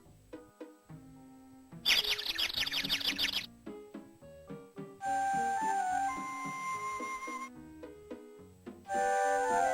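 A baby robin chirps in a storybook sound effect, quick bright chirps in short bursts, alternating with gentle plucked and chiming music notes, clear and close.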